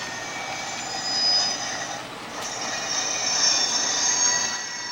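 A continuous high-pitched metallic squeal of HO scale model train wheels, rising and falling slightly over a steady rolling rumble, with no voices.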